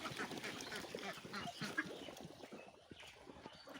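Ducks on a farm of 232 birds quack and chatter together in a soft, busy murmur, fairly faint and steady throughout.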